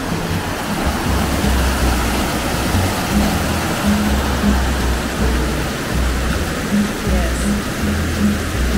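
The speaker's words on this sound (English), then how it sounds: "I like these little waterfalls in this stream here." Small waterfalls in a stream near Deia, Mallorca give a loud, steady rush of tumbling water, close and continuous with a low rumble underneath, while a faint voice can be heard.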